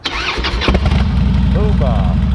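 A Harley-Davidson motorcycle engine on a jump start turns over and catches into a steady, close, loud idling rumble, with people talking over it at the start.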